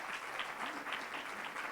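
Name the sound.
audience applause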